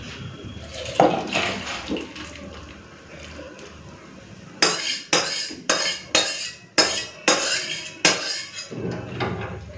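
Tangra fish curry with new potatoes is ladled from the pot into a serving bowl, with a quick run of loud metallic scrapes and clinks in a steady rhythm after some softer clatter and wet sounds, no voices.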